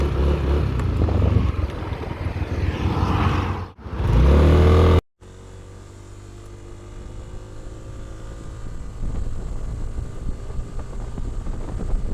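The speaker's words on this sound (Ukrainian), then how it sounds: "мотор працює ідеально, ніяких зайвих шумів немає" A Yamaha Nmax 155 fuel-injected maxi scooter engine runs steadily nearby, briefly dropping out before resuming a continuous hum.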